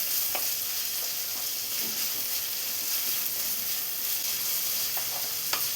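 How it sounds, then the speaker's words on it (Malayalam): Onions and spices sauté in a pan for egg thoran, giving an even, close sizzle with occasional soft scrapes of stirring and no talk. "ഇതെല്ലാം കൂടെ ജസ്റ്റ് ഒന്ന് വഴറ്റിയെടുക്കാം."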